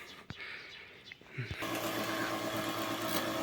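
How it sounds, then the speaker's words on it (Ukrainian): Small engine of a walk-behind tractor fitted with a homemade sprayer for spraying grapevines, starting up after a few clicks and then running steadily and loudly, close by, with a faint voice early on. "Зараз покажу, як він працює от в такому вигляді"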